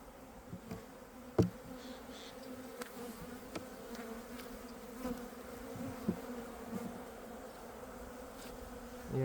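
Honey bees droning steadily in a wooden hive box that winters under a plastic bag, a low continuous hum with occasional faint knocks and rustles, close and moderate.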